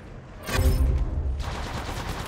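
Gunfire in the mobile game Apex Legends Mobile, a sharp loud burst of shots followed by a rapid rattle of automatic fire trailing off, no talking.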